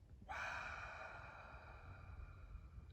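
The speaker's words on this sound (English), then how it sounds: "Notice we're breathing out through the mouth at this point, just to freely release any charge" A breath released through the mouth during a breathing exercise, one soft, faint exhale that starts suddenly and trails off slowly, alone with no talk.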